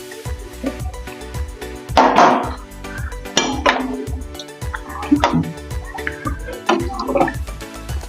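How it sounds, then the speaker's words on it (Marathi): Water is poured into a pot of Marathwada-style chicken rassa in a few splashy bursts, separated by light drips and metallic clinks of the pot. "आता मी ह्याच्यामध्ये पाणी टाकून घेईन."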